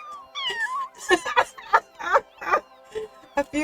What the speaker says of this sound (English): A few kittens come forward and perch themselves on chairs around you, watching your sinking body, mewing as they wait for the youngest sibling to emerge